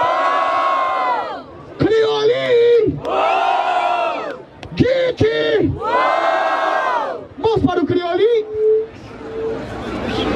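A crowd at a Brazilian freestyle rap battle in Barueri roars, cheers and chants in loud, surging bursts, with individual shouting voices rising above the mass of noise throughout.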